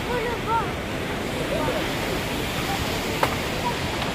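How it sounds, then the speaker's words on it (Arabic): Sea waves break and wash along a city shoreline in Casablanca as a continuous roaring surf, heavy wind buffeting the microphone, with faint distant voices and one brief clatter. "وفوالا ها هو البحر"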